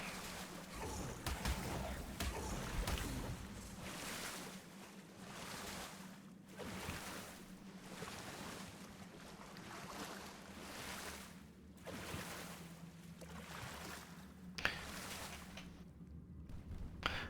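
Swimming through icy cold water in an underground cave in a video game: a steady, continuous rush of sloshing water with rolling swells that rise and fall every second or two, close and fairly loud.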